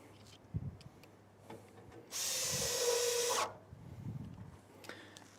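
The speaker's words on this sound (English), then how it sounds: "it's really good to have a cordless drill like this, so that you can quickly and easily just loosen the screws" A cordless drill backs screws out of a log clamp on a Logosol Big Mill Wide Slabber sawmill outdoors, one steady whirring burst of just over a second, loud and close, with faint handling knocks before and after.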